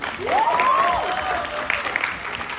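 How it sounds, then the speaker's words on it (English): Audience applause after an entrepreneurship career talk, a steady broadband patter of clapping lasting a few seconds with a whistle-like tone rising over it. "Can we get an applause, please?"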